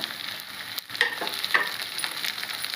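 Tomato and green chilli pieces sizzle steadily in a pan for a yogurt chutney, a continuous hissing fry with a few small sharp pops, close and fairly quiet, with no talking.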